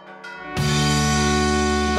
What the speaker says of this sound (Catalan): el so de les diferents campanes des de dalt de tot del campanar van estar marcant l'inici de la festa major d'enguany